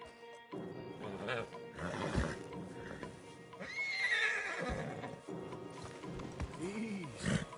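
Horses neighing and whinnying as stallions are led in the video game Red Dead Redemption 2, close and loud with snorts and hoof movement, mixed with a voice speaking.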